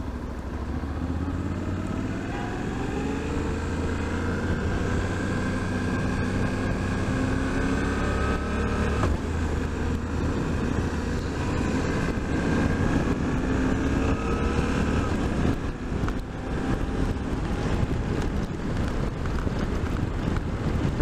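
A 2023 Suzuki V-Strom 800 DE motorcycle with its new just-under-800 cc engine, riding with a steady engine drone that rises and falls through gear changes amid heavy wind rush.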